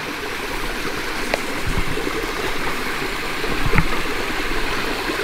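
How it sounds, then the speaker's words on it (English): Creek water in Bay Creek in the Shawnee National Forest flows into a small pool with a steady, broad rushing wash, constant and close, with a couple of faint knocks. "flowing down this little pool there and making its way in the little creek"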